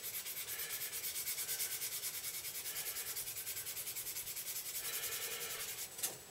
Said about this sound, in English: So I'm switching to a finer grade of sanding stick here